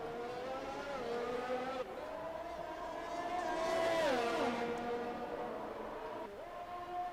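Race cars in an esports racing game at the United States Grand Prix, a Ferrari chasing a Williams: steady high engine whine with gear-shift pitch drops and a swelling pass near the middle, loud and continuous.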